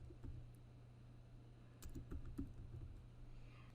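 Text is typed on a computer keyboard, producing soft, close, irregular key clicks in short bursts over a quiet steady hum, with no talk.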